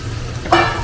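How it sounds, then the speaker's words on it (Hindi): A steady sizzle of capsicum, cabbage and French beans frying in a pan, with a brief clatter of stirring near the end, close and without talking. "सब्जी फ्राई हो रही है, इसमें कैप्सिकम है, कैबेज है और फ्रेंच बीन्स हैं"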